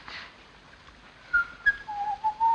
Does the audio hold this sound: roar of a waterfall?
no